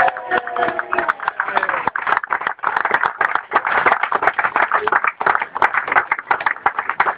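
A crowd applauds at a cricket tournament prize ceremony in Lahore, with steady, dense clapping from many hands that stays loud and even throughout, rising and dipping slightly in intensity.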